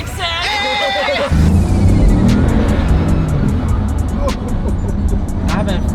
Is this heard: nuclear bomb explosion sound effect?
no